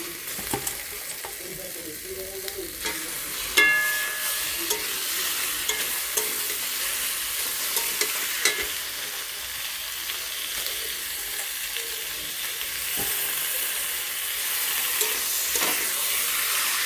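Washed meat fries in a spiced masala, giving a steady sizzling hiss with occasional scraping stirs and small clinks, continuous and moderately loud throughout with no talking.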